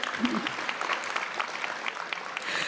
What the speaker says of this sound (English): Round of applause to all of y'all.